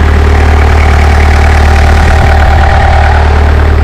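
A Toyota Hilux engine runs at a loud, steady idle while the coolant is bled, a constant deep rumble with a mild mechanical vibration throughout.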